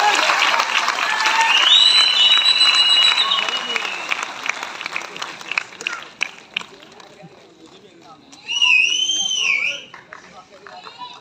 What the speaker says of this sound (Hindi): तो जोरदार तालियां होनी चाहिए यार।